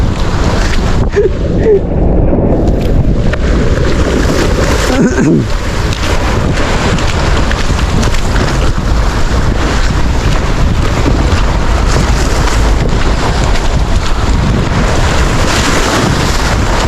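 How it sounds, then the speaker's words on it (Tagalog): Rough sea waves and wind roar continuously around a boat, with a loud steady wash of water and engine rumble. "nakakatakot yung alon"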